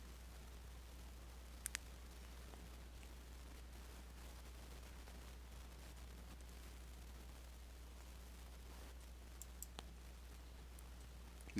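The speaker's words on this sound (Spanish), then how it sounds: "le damos doble clic" Mouse button double-clicks while modeling in Blender: two faint, sharp tick pairs, one early and another near the end, over a quiet room hum with nothing else going on.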